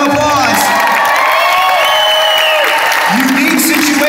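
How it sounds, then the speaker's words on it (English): A shopping-mall crowd at a charity head-shaving event claps and cheers loudly and continuously for a participant, with shouts and whoops rising over the dense applause and voices chattering throughout. "everybody give him a round of applause"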